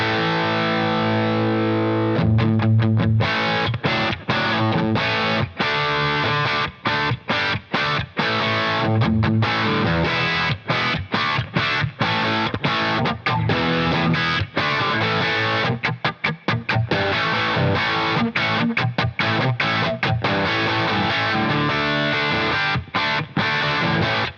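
Heavily distorted electric guitar through an HX Stomp amp modeler plays a driving rock riff with chugging chords, loud and continuous, with no voices.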